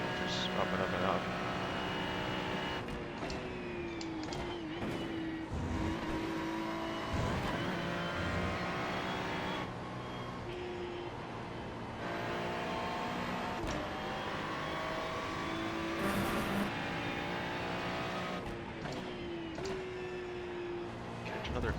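Ferrari 296 GT3 race car in iRacing at Watkins Glen International, its engine howling loud and close, rising through the revs and snapping into repeated gear changes, with a voice talking over it at times.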